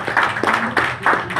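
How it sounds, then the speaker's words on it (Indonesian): A small group clapping together in short uneven bursts, close and moderately loud, with faint voices underneath. "Tepuk tangan untuk SOP."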